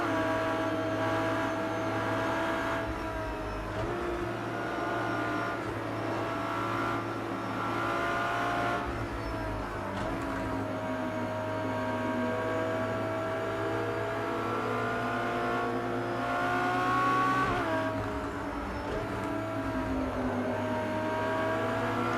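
A LaFerrari in Project CARS 2 screams along at around 270 km/h, its engine holding a high, steady tone that slides up and down with gear changes and throttle, loud and close with no talk.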